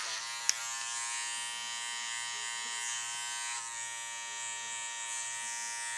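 Electric hair clippers fitted with a 1 guard run with a steady, close, bright buzz while cutting hair, one small click near the start and no talking.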